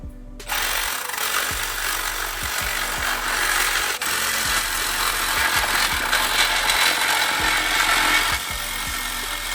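A power tool cuts through the exhaust pipe of a crashed Kawasaki Z900 motorcycle, giving a loud harsh grinding rasp with a regular pulsing beat throughout, close by and with no voices.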